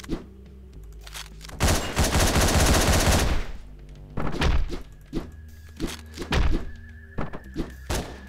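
Gunfire in the top-down action game Hotline Miami: a sustained burst of automatic shots followed by several separate single blasts and thuds, loud and punchy over a pulsing synth music bed, with no talking.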